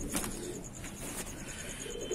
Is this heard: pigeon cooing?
yes